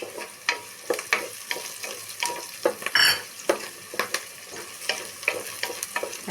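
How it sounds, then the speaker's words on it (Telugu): Onions and curry leaves fry in a pan for a potato spinach curry: a low, constant sizzle punctuated by frequent sharp spatula scrapes and taps, plus a brief louder hiss midway, heard up close without speech. "కరివేపాకు, ఉల్లిపాయలు కొంతసేపు ఫ్రై అవ్వాలా, రెడ్డిష్గా రావాలన్నమాట"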